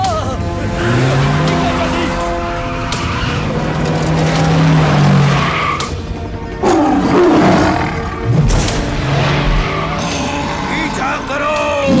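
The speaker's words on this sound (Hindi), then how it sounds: "शेर आ गया है।" A lion roars loudly and repeatedly at close range, with deep, drawn-out growling bursts, while a vehicle revs nearby and people shout in alarm.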